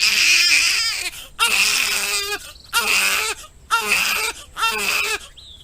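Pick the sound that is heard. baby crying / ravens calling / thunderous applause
baby crying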